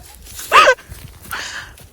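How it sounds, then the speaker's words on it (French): A small dog, apparently a stray near an abandoned orphanage overgrown with brambles, gives one sharp close bark followed by a softer, shorter yelp, with faint footsteps and rustling around it. "Là, il y a un petit chien."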